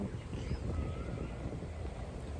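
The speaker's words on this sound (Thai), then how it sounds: "ลมพัด ลมพัดบีบีเลยค่ะทุกคน" Outdoor wind in the Thai countryside, a steady low broadband rumble and microphone buffeting that holds unbroken for the whole stretch, with no voices over it.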